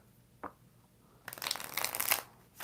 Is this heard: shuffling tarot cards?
yes